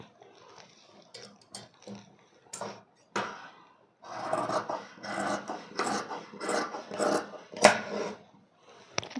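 Scissors cut through the sleeve cloth of a blouse in short bursts of close, crisp snipping and rasping fabric, with quiet pauses between cuts.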